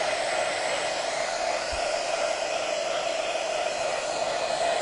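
A heat tool warms rub-on transfers on a painted truck, its constant, fairly loud blowing whoosh holding steady the whole time.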